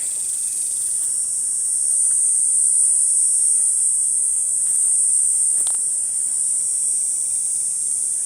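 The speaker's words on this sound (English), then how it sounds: "Cicadas are out. They've been out early this year." Cicadas buzz in the woods beside a drought-stricken creek, a loud, steady high-pitched drone that runs unbroken for the whole stretch, with a few faint clicks and rustles underneath.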